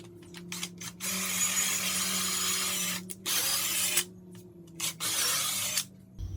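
A power drill bores through a 4x4 wooden post, with a steady loud whirring grind in long runs broken by brief pauses and short bursts, close up and with no voices.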